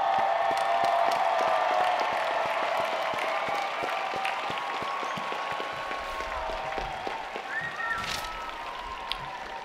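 Graduates and audience at a Georgia Tech College of Computing master's ceremony break into sustained crowd applause and cheering that fills the hall steadily throughout.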